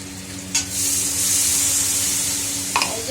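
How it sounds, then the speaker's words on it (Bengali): Water poured into a hot frying pan of herb-topped curry bursts into a loud, steady sizzle that holds for a few seconds, with a couple of brief clatters at the start and near the end. "এই যে জল দিয়েছি"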